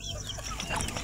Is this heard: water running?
no